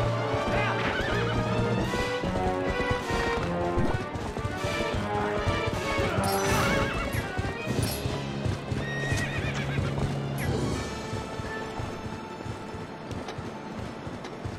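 In The Legend of Zelda: Twilight Princess, hooves clop rapidly while a horse whinnies loudly, mixed with crashing impacts and a steady electronic backing music.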